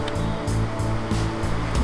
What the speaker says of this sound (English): that's a nice wave, even though it's tiny